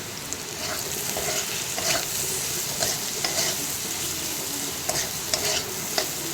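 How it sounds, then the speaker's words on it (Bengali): Potatoes with salt and turmeric fry loudly in a wok, a dense continuous sizzle broken by regular stirring scrapes at a close distance. "নুন হলুদটা দিয়ে ভালো করে আলুটাকে আবার নাড়াবো"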